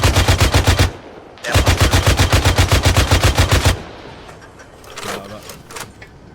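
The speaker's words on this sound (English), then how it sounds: "I'm just blind firing" Automatic gunfire in the combat game Arma 3 comes as two long, loud, rapid bursts of blind fire separated by a short pause, followed by quieter distant shots and game ambience.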